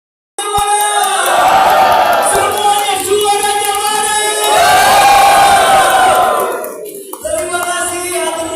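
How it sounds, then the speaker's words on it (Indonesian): A loud indoor audience at a YouTube creator meet-and-greet in Bandung cheers and shouts in sustained waves, with the roar swelling twice before dropping and resuming near the end. "kemudian tepuk tangan."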